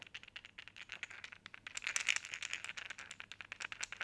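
A pike wobbler fishing lure shaken by hand, a quiet, muffled rapid rattle of small internal balls in repeated bursts, close and alone with no talking.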